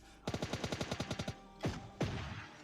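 Gunfire in the mobile battle royale game PUBG Lite: a rapid burst of about a dozen evenly spaced shots, followed by two single heavier booming shots, all fairly faint and with no speech over them.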